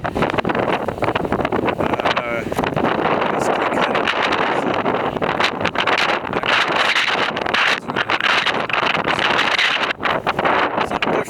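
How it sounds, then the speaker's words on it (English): Strong gusty wind buffets the microphone outdoors, a loud continuous roar and rumble with no pause. "Oh man, the wind is just gnarly."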